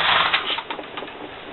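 Singer sock knitting machine working a row, a rapid series of mechanical clicks and clacks, close and fairly loud, rhythmic and slightly uneven.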